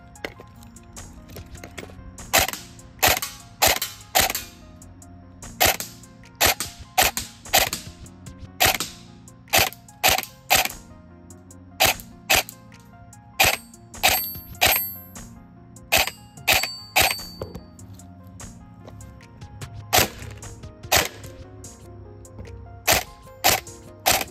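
An airsoft gun fires BBs in a long series of sharp, loud cracks, single shots and quick pairs spaced a second or two apart, with faint handling clicks between them.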